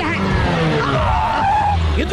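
A bus brakes hard to a stop in a comedy film's climax scene, its tires skidding in a harsh squealing screech for about two seconds, with voices mixed in.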